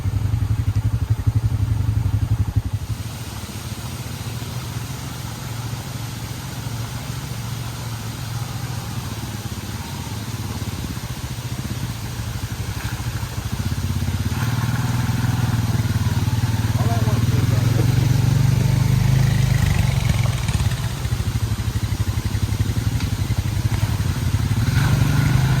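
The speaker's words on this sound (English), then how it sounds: "side-by-sides are coming up the mountain. Sounds like it down here below us." Side-by-side off-road vehicles climb a mountain trail at Windrock Park in Oliver Springs, Tennessee, their engines a steady low drone that swells and grows louder toward the end, continuous throughout with no clear speech.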